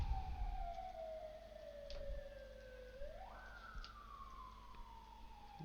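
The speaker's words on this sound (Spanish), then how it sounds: "Disculpen la ambulancia." An ambulance siren wails in a long descending tone, then jumps in pitch and falls again as the vehicle passes by, steady and moderately loud over low traffic rumble, with no talk.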